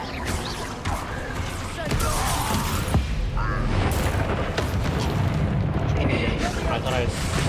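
A Bombardo spell goes off during a Hogwarts Legacy battle with loud booming, rumbling blasts, while battle noise and voices continue around it.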